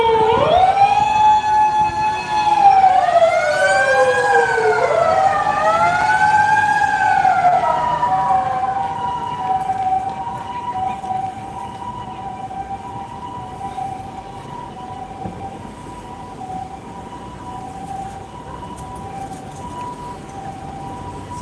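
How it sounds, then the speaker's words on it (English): An emergency vehicle siren wails loudly near a busy Tokyo station area in Futako-tamagawa, its pitch sweeping up and down before settling into a steady two-tone call over street noise. "as always there's some like emergency vehicle"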